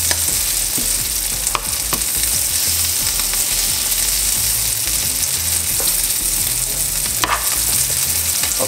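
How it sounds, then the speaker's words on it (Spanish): Margarine melts and sizzles in a frying pan as the first step of a sautéed asparagus dish, a loud, steady, crackling fry that carries on throughout with no talking. "Comenzamos echando nuestra margarina en el sartén. Vamos a esperar que se derrita un poquito."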